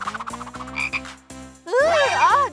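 A cartoon frog croaks: a few short rhythmic pulses give way to a loud, warbling, drawn-out croak, close up and alone without talk.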